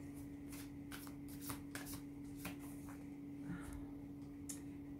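A deck of cards is shuffled in a series of quick riffles and soft flicks, quiet and close against a low steady hum.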